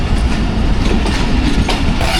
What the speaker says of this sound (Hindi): ये डोमेली रेलवे स्टेशन पे 39 अब जाफर एक्सप्रेस से क्रॉस हुआ है जी हमारा, और दोनों ट्रेनें स्लो जा रही हैं।